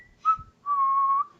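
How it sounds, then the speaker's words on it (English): A person whistles two short tones, a quick rising note and then a longer steady one, clear and close in a quiet room. "I like the whistling."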